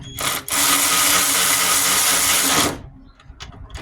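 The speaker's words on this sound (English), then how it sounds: "we are going to use our cordless ratchet, or battery powered ratchet" A cordless battery-powered ratchet whirs loudly in one continuous burst of about two seconds as it tightens motor mount bolts on a 2007–2012 Nissan Altima, then cuts off, leaving faint clinks.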